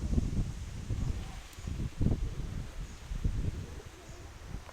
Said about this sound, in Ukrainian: Ага, вітер. О, воно що. Там гарний дме.